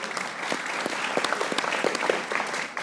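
Studio audience applauds Pakistani cricketer Babar on a T20 World Cup match-analysis program, a dense, steady patter of many hands clapping at once, close and fairly loud, holding at an even level with no speech over it.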